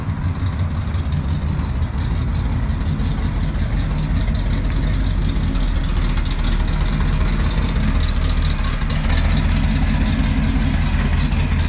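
A 1985 Chevy K10 Silverado truck idles roughly, its loud, steady, low-pitched engine rumble running without a break and with no voices.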